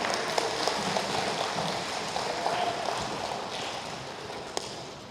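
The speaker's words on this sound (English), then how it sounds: "Clap your hands for Miss Karen." A school audience at a workshop at Credence High School claps for a guest speaker taking the stage, a dense, even patter of many hands that holds steady, with no talking.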